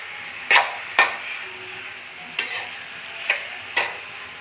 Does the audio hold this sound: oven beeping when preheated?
no